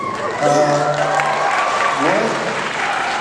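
Audience applause during a teen indie awards interview with a documentary filmmaker: a steady wash of clapping from the crowd for about three seconds, with a voice or tone running faintly underneath.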